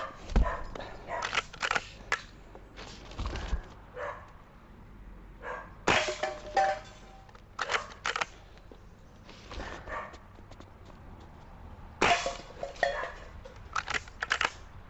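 CO2 air rifle shots striking tin can targets, a string of sharp cracks and metallic clanks in irregular bursts at moderate distance, with occasional voices in between.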